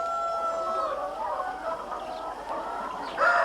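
Chickens cluck and a rooster crows inside a poultry house with wood-shaving litter, overlapping calls close by and fairly loud, ending in a sharper burst of squawks.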